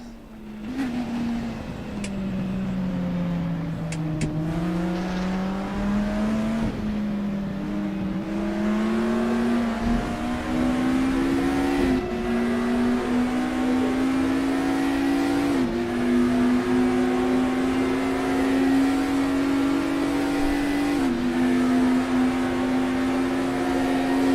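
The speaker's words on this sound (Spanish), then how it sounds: "Escuchamos el sonido, este sonido del M3." A BMW M3 touring car in the RaceRoom racing game, Touring Classics class at Imola, revs loud and alone, its engine note climbing steadily through repeated upshifts with brief dips at each gear change.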